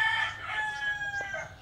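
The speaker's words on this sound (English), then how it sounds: "So look, the chickens." Roosters crow in a residential neighborhood in the Philippines, with a strained, drawn-out call at moderate distance and further crowing overlapping behind it, over a steady low background hum.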